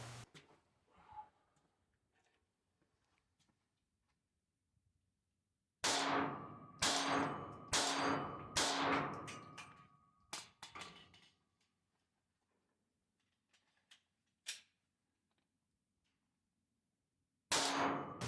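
Bullets strike steel shooting targets during a timed training drill, producing a rapid burst of sharp ringing clangs, then a few spaced single hits, each with a short metallic ring-out against quiet surroundings.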